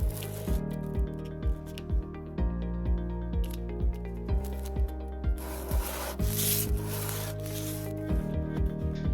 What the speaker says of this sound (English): a quick touch with 60 grit sandpaper takes care of most of the saw marks.